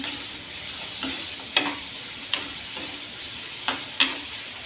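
Raw banana pieces being sautéed in a pan, with a soft steady sizzle broken by several evenly spaced spatula scrapes and taps against the pan, close and clear with no talking.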